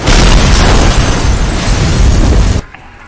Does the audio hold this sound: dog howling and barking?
no